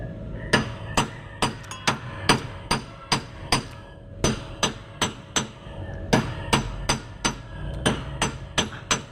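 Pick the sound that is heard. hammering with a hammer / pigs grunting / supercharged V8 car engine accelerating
hammering with a hammer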